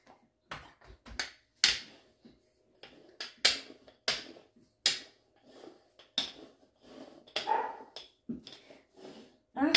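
A small dog indoors in a home kitchen during baking gives several short, sharp barks at uneven intervals, mixed with quick clattering knocks and no talk.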